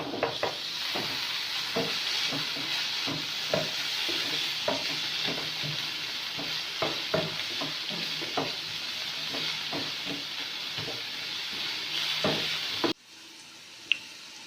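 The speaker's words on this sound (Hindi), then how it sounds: "छोटे साइज का प्याज लिया है, उसे बारीक चॉप कर लिया था, वो शामिल कर दिया। इसे फ्राई करेंगे।" Finely chopped small onions fry in hot ghee with a steady, close sizzle and a rhythm of spatula stirs and light taps against the pan, before the hiss suddenly drops away near the end, leaving a final clink.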